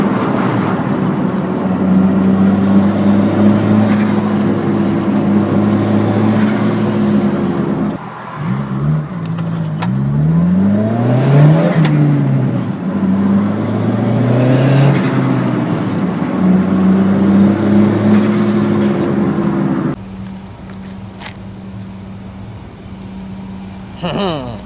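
A Honda Civic drives along with a steady engine drone from inside the cabin. The pitch rises and falls through several gear changes, and a brief dip comes around the middle.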